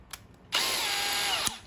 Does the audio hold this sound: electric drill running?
yes